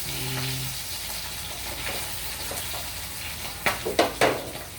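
Dried milkfish (daing na bangus) fries in a pan with a steady, hissing sizzle throughout, and a few sharp spatula knocks near the end. No voices are heard.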